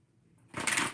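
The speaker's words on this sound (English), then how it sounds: "One more shuffle." Tarot cards shuffled by hand: a quiet start, then a single quick, crisp riffle burst filling the second half, close and fairly loud with no talking.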